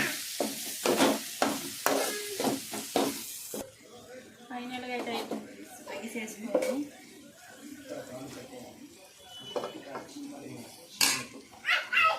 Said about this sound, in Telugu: రెండు గుడ్లు అండి ఇంకట్లా మిక్స్ చేసుకోండి